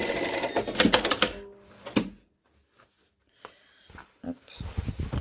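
A sewing machine stitches a zipper fly on trousers: a fast, rattling run of stitches, a pause, one short burst, then quiet handling and clicks as the fabric is moved.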